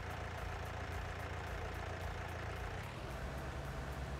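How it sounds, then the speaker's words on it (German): A heavy tractor engine in Landwirtschafts-Simulator 19 drones steadily and rises slightly in pitch as it revs, with a constant low rumble and no talking. "der Traktor geht in der Drehzahl hoch"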